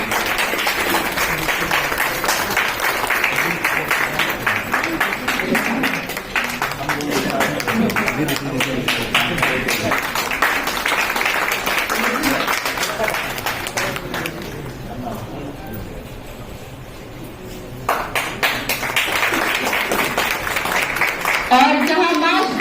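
An audience at a national education conference and award ceremony claps in a long run of rapid, dense applause that dips briefly near the end before resuming, with a voice speaking over it.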